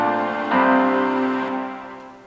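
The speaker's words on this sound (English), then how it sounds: "And then some strings." Sustained notes in a huge, epic cinematic track swell in after a brief soft lead-in, holding a rich, reverberant chord that gradually thins out.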